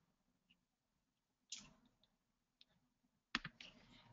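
A computer mouse clicks a few times during a webinar walkthrough, faint isolated taps followed by a quick double click, with no voices.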